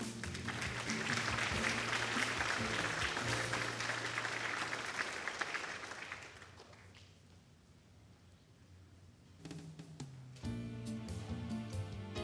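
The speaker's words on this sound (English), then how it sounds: "Let's have one more round of applause for the 2016 Teachers of the Year." Audience applause at an educator of the year banquet, a full, even roar of clapping for about six seconds that fades out, with a few lingering claps and people talking softly in the room afterwards.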